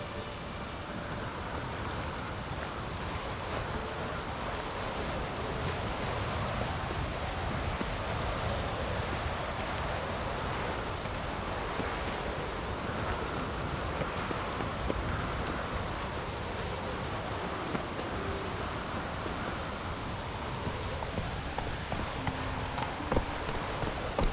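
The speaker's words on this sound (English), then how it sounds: "Looks like rain" Steady rain falls in The Witcher 3: Wild Hunt, an even wash of hiss and patter on surfaces that holds at a constant level throughout with no voices.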